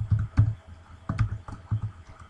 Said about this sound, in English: all you have to do is type in x label